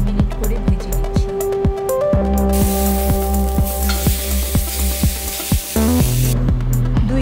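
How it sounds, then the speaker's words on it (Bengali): Beef steak frying in a pan sprayed with oil, a continuous hiss of sizzling heard under rhythmic background music with a steady beat. "2 থেকে 3 মিনিট করে ভেজে নিচ্ছি।"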